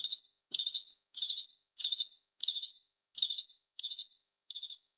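Cricket-like chirps sound alone and close, eight evenly spaced bursts of high trilling about two thirds of a second apart, with silence between them.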